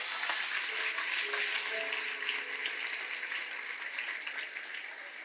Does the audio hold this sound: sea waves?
no